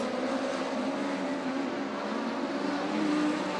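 Several speedcar racing engines drone steadily at a distance, a continuous layered roar of cars circling a track without any voices.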